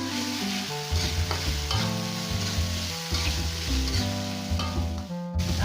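Spicy Sundanese-style pork or beef intestines being stir-fried in a pan, a continuous bright sizzle and stirring rattle running underneath loud background music.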